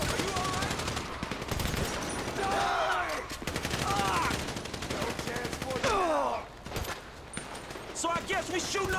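Video game shootout in GTA 5 with rapid bursts of automatic gunfire and single shots, loud and continuous across the scene, layered with shouting voices and effects.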